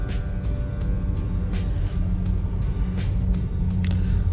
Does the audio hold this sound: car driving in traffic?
yes